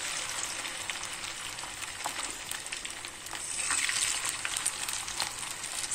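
Quail pieces deep-frying in hot oil for a 65-style dish, three pieces in the pan, giving a steady, close, bright sizzle with small crackles that swell slightly midway; no talking.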